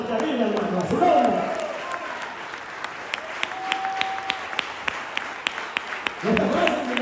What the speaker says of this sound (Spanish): Denle fuerte de palmas al que vive, hermano, a su nombre.